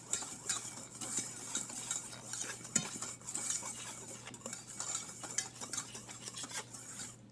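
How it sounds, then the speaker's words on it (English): A whisk scrapes and clinks rhythmically against a bowl of dry chocolate cake ingredients, quick repeated strokes, close and fairly quiet, with no talking. "We're going to sort of whisk this up to aerate it and get it mixed up and get any lumps out."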